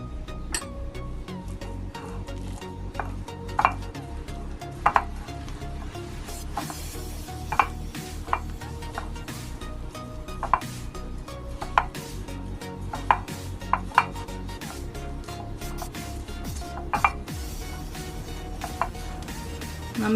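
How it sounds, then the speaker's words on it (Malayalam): A spoon stirs cornflour into a chicken mixture in a bowl for homemade nuggets, giving soft scraping with scattered sharp clinks and taps at irregular intervals, close by and fairly quiet. "1 ടീസ്പൂൺ കോൺഫ്ലവർ ഇതിലേക്ക് ഇട്ട് മിക്സ് ചെയ്തെടുക്കണം."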